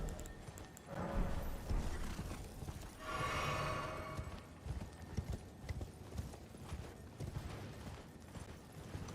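A horse in the video game Elden Ring clip-clops along, with rapid hoofbeats and creaking tack throughout, a brief whinny partway in, and game ambience beneath.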